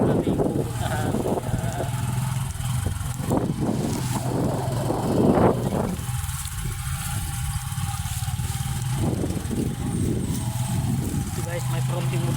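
Motorcycle engine droning steadily along a muddy rural road, with wind buffeting the microphone throughout and the motor's pitch wavering as the bike rides on.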